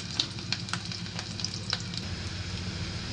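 Sliced onions sizzle steadily in a hot pan, a close, continuous crackling fry with a few sharp pops and stirring clicks, no voices.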